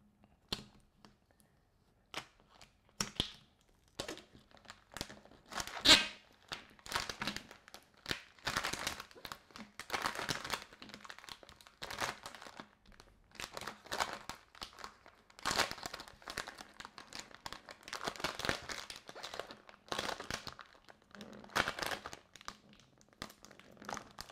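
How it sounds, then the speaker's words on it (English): Cricut transfer tape peeled back off vinyl, giving faint, irregular crinkling and tearing crackles in close, quiet bursts over a long stretch. "So now we're just going to start peeling that transfer tape back"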